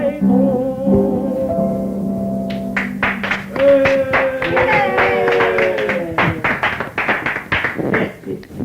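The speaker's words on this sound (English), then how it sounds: "you've all heard that thunderous applause" Audience applause after a song: a few sharp taps give way to a steady patter of clapping that builds over lingering sustained tones from the song's ending.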